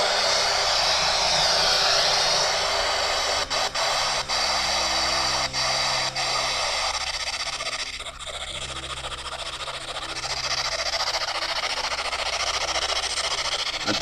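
A ghost box sweeping through FM radio stations gives a steady wash of loud hiss and static with brief clicks and dropouts as it jumps between frequencies, continuous throughout with no voices.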